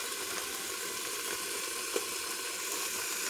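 Filipino sweet pork longanisa, a cured pork sausage, frying in a pan, giving a faint, steady hiss of sizzling fat throughout with a single small pop near the middle, heard alone without talk.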